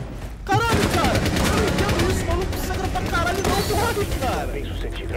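Rapid bursts of automatic gunfire in the video game Rainbow Six Siege, loud and continuous over several seconds with overlapping shots, under excited players' voices.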